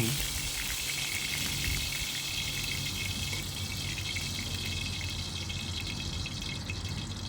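Cooking oil poured into a wok on the stove for stir-frying pork: a continuous, fairly loud splashing and hissing that holds steady for about seven seconds.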